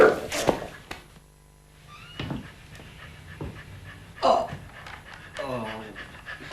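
Dogs panting and whimpering close by in short uneven bursts, mixed with someone shouting and other talk.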